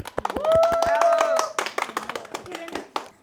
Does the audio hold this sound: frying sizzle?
no